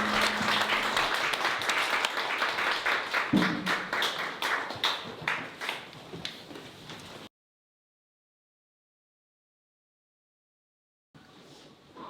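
Church congregation applauding after worship songs, a burst of brisk, steady clapping that fades out, cuts to silence, then briefly returns.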